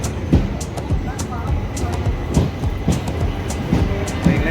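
A passenger train on the Thiruvalla to Velankanni route sits at a station, giving loud close rolling rumble with regular clicking wheel-on-rail knocks, while voices talk faintly in the background.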